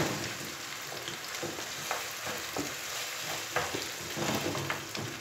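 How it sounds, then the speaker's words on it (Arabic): Tomato frying with merguez sausage in a pan makes a continuous close sizzle, with scraping stirs and clinks recurring every second or so. "طوماطيش تحب مليح تقليها"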